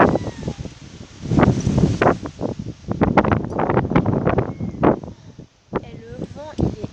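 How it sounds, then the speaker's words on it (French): Strong outdoor wind gusts and rumbles against the microphone in a steady, blustery roar while a person talks over it throughout. "Et le vent il est incroyable"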